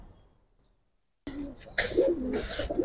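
Pigeons in a loft coo and flutter close by, with soft rolling calls rising after a second of near silence.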